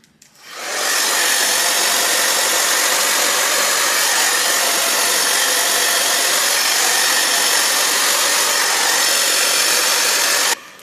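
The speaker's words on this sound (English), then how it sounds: "I'm about to blow dry this hair first" A hair dryer blows steadily and loudly for about ten seconds at close range, a constant rushing whir that starts abruptly and cuts off at the end, with no talking.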